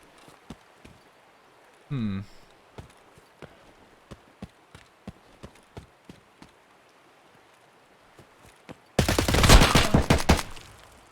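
Gunfire in Escape from Tarkov, a hardcore run toward Terragroup Labs: a short loud volley bursts out near the end after quiet stretches of soft footsteps and scattered clicks.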